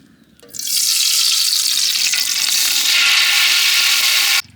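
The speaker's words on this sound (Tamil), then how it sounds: "பிரியாணி குண்டா சூடாகிட்டு எண்ணெய் ஊற்றிக்கலாம்." Hot oil hitting a heated biryani pot in a village-style kitchen, making a loud, steady sizzle that bursts in suddenly and holds strong for about four seconds before cutting off.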